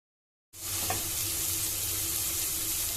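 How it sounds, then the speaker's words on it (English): Frying in a pan while making dal makhani starts abruptly with a loud, close, continuous sizzle that keeps an even hiss to the end, with no talking. "Fry them nicely for 2-3 minutes"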